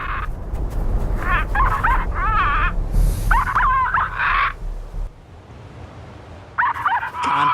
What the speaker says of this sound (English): And now we have the dog's barkings.